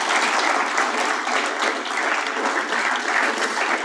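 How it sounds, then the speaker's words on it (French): Conference audience applauding together, a dense steady clatter of many hands clapping at close range with no voices over it. "Vous pouvez les applaudir pour avoir participé."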